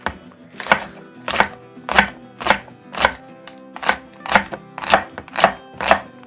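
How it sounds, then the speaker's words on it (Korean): A knife slices green onion (daepa) on a cutting board, giving about ten crisp, evenly spaced chops close up, with no talking. "자, 먼저 대파 썰도록 하겠습니다."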